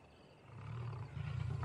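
At night, lions in an enclosure let out a rising, rough roar that grows louder and more strained, with a deep rumbling, pained quality.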